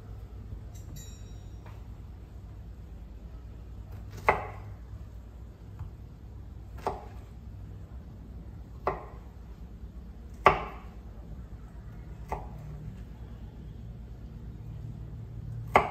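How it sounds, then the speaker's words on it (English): A knife cuts strawberries on a cutting board in sharp, isolated chops spaced a second or two apart over a low, steady background hum, with no talking. "Cut the fruit."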